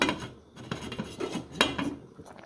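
Pots and metal utensils clank and scrape in a home kitchen while green plantain dumplings are checked on the stove beside pumpkin stew, with several irregular, close clinks and knocks.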